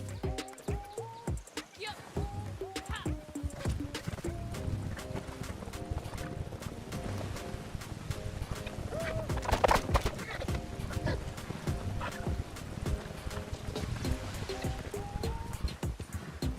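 Hooves clip-clop at a steady canter as a horse is ridden toward a lake in the video game Red Dead Online, with game music and ambience underneath and a voice speaking over the ride.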